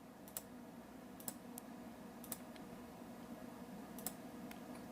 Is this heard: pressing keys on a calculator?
yes